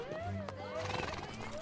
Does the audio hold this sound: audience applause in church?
no